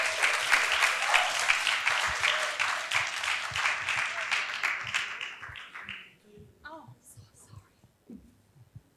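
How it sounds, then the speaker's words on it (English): Steady, dense applause from a conference audience at an animal activism event in Viet Nam, honoring Animals Alliance Asia, filling the room for about six seconds before dying away into quiet murmurs and a few stray sounds. "Another round of applause for Animals Alliance Asia"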